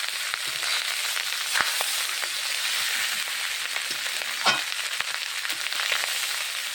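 Cooked rice stir-fried in a hot pan for fried rice, giving a steady broadband sizzle with faint scraping stirs and a couple of brief louder clatters, close and alone with no voices.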